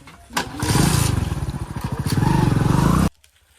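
A motorcycle engine cranks and catches, revving with a rapid sputtering rhythm for a few seconds before cutting off abruptly; loud and close.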